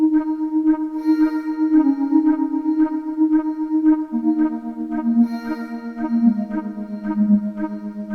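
Amapiano drum loops layered with chanted vocal samples, playing as a steady, loud, effects-heavy groove with sustained tonal parts that shift pitch partway through, no talking over it.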